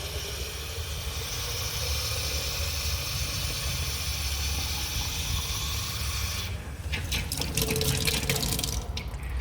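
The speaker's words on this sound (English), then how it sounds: "Okay, let's fill up our 4th bottle." Tap water runs steadily into a plastic bottle, a continuous loud rushing stream that shifts in tone near the end as the bottle fills, with no voices over it.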